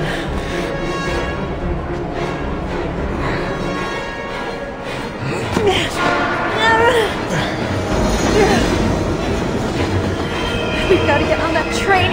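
Video game train from Heavy Rain rumbling past, with a continuous heavy roar, clattering wheels and metallic squeals building over a dense, loud rail din, mixed with voices.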